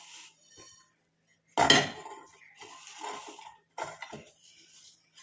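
Fried ingredients tip into a mixer jar with a sharp clatter, then a few lighter taps and knocks of utensils against the jar in a quiet kitchen.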